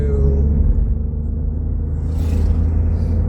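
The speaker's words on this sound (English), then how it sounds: "That car sounded horrible." A car with a rough, misfiring engine, seemingly firing on only two cylinders, rumbles past: a continuous low, heavy drone with a brief hissing swell near the end.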